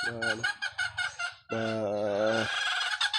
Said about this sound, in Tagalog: Ang dami nilang manok dyan.